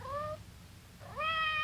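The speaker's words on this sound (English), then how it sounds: "It sounded like Madame's cat, Francois." A cat meowing outside a door in an old radio drama, two drawn-out rising meows, close and clear, with a brief quiet pause between them.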